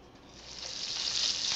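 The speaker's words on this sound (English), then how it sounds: "You don't want it smoking, you want a light sizzle." A soft, building sizzle of chicken breasts frying in a hot pan, rising in loudness over a second or two, with no voices.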